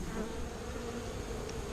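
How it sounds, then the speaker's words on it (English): Honey bees hum in a dense, continuous drone during a bee cut-out, a steady close swarm with no pauses and no voices. "I'll dump all the bees from my bee vac in there as well"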